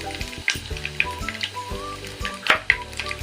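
Whole dried chili, bay leaf and cumin seeds sizzling in hot oil, a soft steady crackle with small pops, close and quiet, with no voices.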